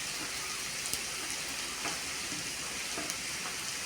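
Finely chopped onions and small shallots sizzle steadily in hot oil in a pan for chicken thoran, a constant close frying hiss with a few brief pops and crackles, no voices.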